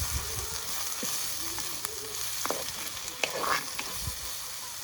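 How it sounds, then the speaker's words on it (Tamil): Onions with curry leaves gently sautéing in a pan for a crab curry, a soft steady sizzle with occasional light clicks and stirring scrapes, fairly faint and close, with no talking. "வெங்காயம் லைட்டாக வதங்கட்டும்."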